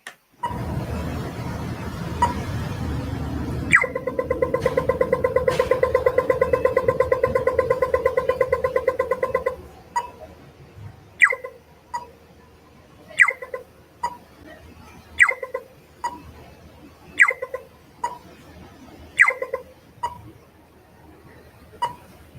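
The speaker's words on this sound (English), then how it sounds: "this is the sound of the crosswalk junction in Singapore" A steady electronic beeping tone sounds over traffic hum, then gives way to rapid, regular ticking pulses, a pedestrian crossing signal at a Singapore junction heard outdoors.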